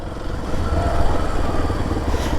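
A Kawasaki KLX 230 motorcycle engine runs steadily close by, a continuous low rumbling idle with a faint clattery texture, no voices over it.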